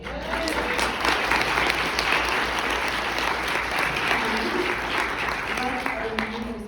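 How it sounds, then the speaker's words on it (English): Sustained audience applause at an event on suicide prevention, a steady dense clapping that fills the whole stretch while voices talk over it. "That deserves a round of applause"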